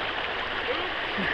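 Fast-flowing water of the Missisquoi River, a steady broadband rush close by with no breaks, heard while wading across.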